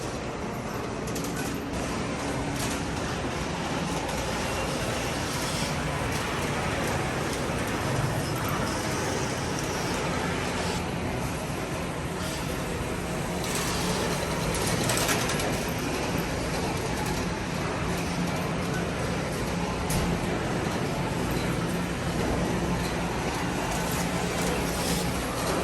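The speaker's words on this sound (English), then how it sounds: "They got all these model trains here." A steady rumble and clatter of a model train running along track at a children's museum, continuous throughout with a busy indoor background hum.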